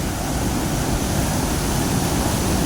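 A small jungle waterfall with a cave behind it, running after rain, gives a steady, loud, unbroken roar of falling water with no voices.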